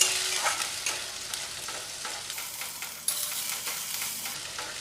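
Onion paste frying in a pan over low to medium heat, a dense close sizzle broken by scraping stirs, steady and fairly loud with no talking.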